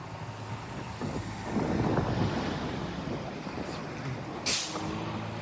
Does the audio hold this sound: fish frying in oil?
no